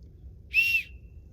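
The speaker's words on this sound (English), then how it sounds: "I really like this whistle." One short, shrill blast from a survival whistle, piercing and steady for about a quarter second, over faint background hum.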